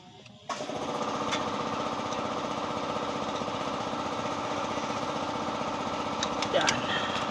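An air compressor starts up and runs steadily in an auto repair shop during a brake shoe job on a 2023 Toyota Innova, a loud, constant mechanical drone with a rapid chugging pulse, close and filling the space.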